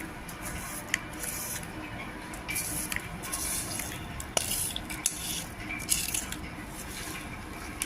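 Quiet, wet stirring as tempering is mixed into mango pickle, with soft squelches and a few light clicks of a spoon, steady throughout with no speech.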